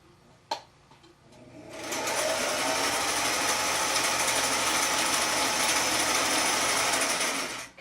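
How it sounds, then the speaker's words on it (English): A vintage Singer sewing machine, a Singer 413 or 476, sews a straight stitch on slippery fabric, starting after a click and running in a steady rapid mechanical whir for several seconds, close and loud. "I'm going to check out a straight stitch to start with"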